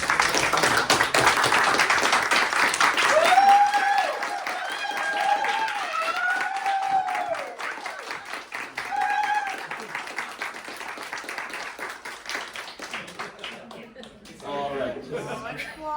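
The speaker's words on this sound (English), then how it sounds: "Let's give them all an applause, please," An audience at a close-up and parlor magic show claps loudly at first, then the applause thins out as people talk and murmur over it, with brief bursts of clapping toward the end.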